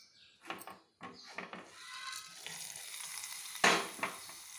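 Tempering being fried in a pan and stirred into coconut chutney for Ongole-style pulibongaram dosa, with soft sizzling, scraping stirs and light utensil knocks in bursts, then a louder hiss near the end.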